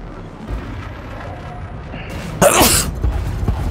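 A single sharp, loud sneeze bursts out over a background of game sound effects during an online spaceship combat match.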